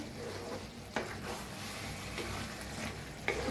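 Ridge gourd vegetable being stirred together with coriander in a pan, a soft steady sizzle with scraping stir sounds and a few sharper spatula knocks, close and moderately quiet, no talking.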